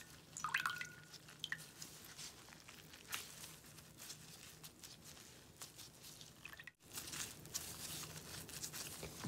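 Water dripping and trickling after something is dipped in water while seedlings are wrapped, with faint damp crinkling of a wrapper, quiet and close, with a brief gap partway through.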